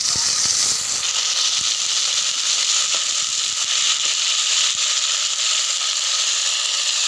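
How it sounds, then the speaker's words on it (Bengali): Chopped onions fry in hot oil for a tangy coconut-milk dish with hog plums, giving a loud, dense, continuous hiss with scattered crackles, close and with no talk. "গরম তেলেই পেঁয়াজ কুচিগুলো দিয়ে দেব। ভালো করে পেঁয়াজটাকে একটু লাল করে নেব।"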